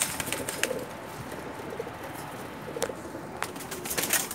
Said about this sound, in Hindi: ये कबूतर आपको दिखा रहा हूँ मैं